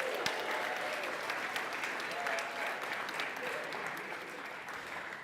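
An audience at the Pride of Newcastle Awards 2022 ceremony cheers and applauds steadily throughout, a dense, continuous wash of clapping that fills the hall without letting up.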